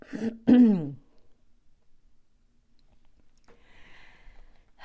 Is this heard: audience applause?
no